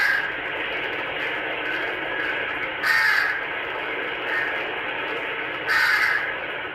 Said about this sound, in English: a crow calls out to no one the whole time